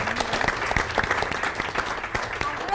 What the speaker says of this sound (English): Would you join me in giving a round of applause for our faculty members?